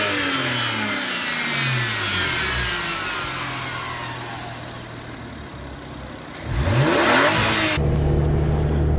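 A BMW engine runs while the car drives after a carbon clean, a steady mid-pitched drone with shifting tones that swells louder near the end; no one speaks.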